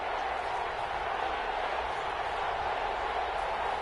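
A stadium crowd in an American football video game roars loudly and steadily as a big third down approaches, a dense, continuous wash of cheering with no breaks.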